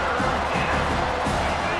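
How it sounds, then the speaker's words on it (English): Home crowd roaring at a Penn State versus Navy college football game on a third down, a steady broadband wall of cheering that holds at a constant level with no distinct voices breaking out. "Here comes this home crowd as the defense tries to get off the field on 3rd down."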